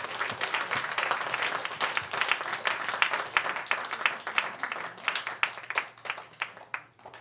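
Congregation clapping in applause during a church sermon, a steady moderately loud patter of many hands lasting several seconds and thinning out toward the end.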